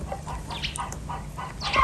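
Young chickens on a foggy rural homestead cluck in short, close, repeated calls, several birds overlapping over a low steady background hum.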